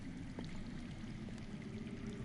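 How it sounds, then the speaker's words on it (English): Underground water flowing in a Game of Thrones video game, a continuous low rushing pour heard steadily and somewhat muffled, with no voices over it. "I hear water. From underground."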